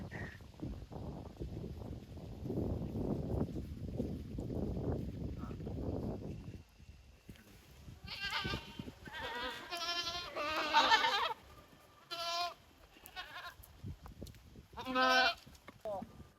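Goats on a farm in Canada bleat in several loud, wavering calls in the second half, after a stretch of people talking with rustling and footsteps at feeding time.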